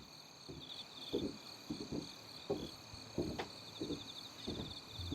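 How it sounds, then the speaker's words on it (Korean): Faint, high buzzing cicada calls pulse in the background over quiet, rhythmic lower sounds of gently dripping water, the chorus soft and distant, in a calm natural setting in Cheorwon, South Korea. "매미 소리"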